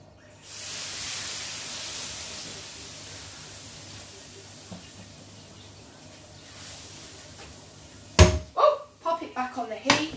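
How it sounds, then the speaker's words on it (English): A frying pan rinsed under running water, a soft broad hiss of flowing water lasting several seconds, then sharp clattering knocks of the pan as a voice speaks over it. "Quick rinse of your frying pan."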